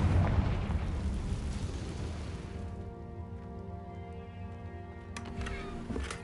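A Confringo blasting spell in Hogwarts Legacy sets off a booming explosion that decays into a rumbling tail with a lingering ringing tone, and a couple of faint sharp cracks follow near the end.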